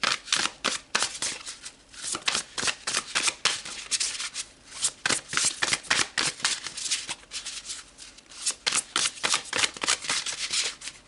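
Tarot cards are shuffled continuously for several seconds, a steady run of crisp, close riffling and flicking bursts with no talking.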